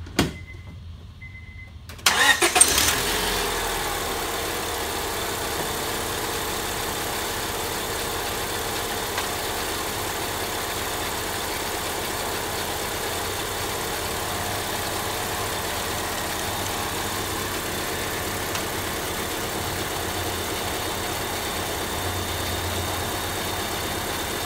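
A car engine idles steadily and evenly for a long stretch, starting after a brief click and a short burst of noise.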